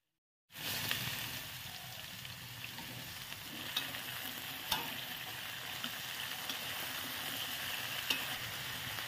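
Taro stems and corms stir-fried with dried shrimp in a pan, a dense continuous sizzle with occasional light utensil clicks, steady and close, no talking.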